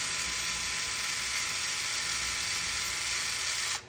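An electric screwdriver drives screws into the under-drive gear axle of an SCX24 RC crawler, a steady close whirring hum running unbroken for nearly four seconds before cutting off abruptly at the end.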